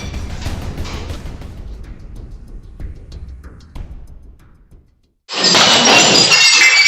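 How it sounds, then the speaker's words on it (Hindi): Window glass at a computer coaching centre is smashed: after low rumbling and scattered knocks, a sudden loud crash of shattering glass bursts in and keeps crackling and tinkling, harsh and close. "वो खिड़की के शीशे चकनाचूर करने लगा"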